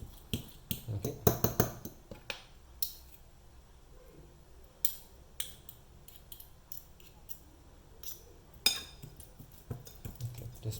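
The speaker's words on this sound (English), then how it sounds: "Let's try to mash the garlic first." A metal fork mashing roasted garlic in a kitchen while preparing baba ghanoush with aubergine, giving a run of quiet irregular clicks, scrapes and taps on a plate or bowl, close and alone.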